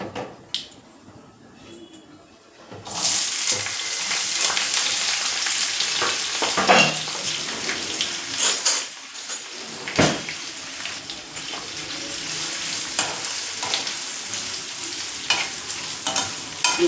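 Curry cooking without onion in a pan sizzles and fries steadily at close range after a quiet start, with repeated scraping stirs of a utensil through the mixture.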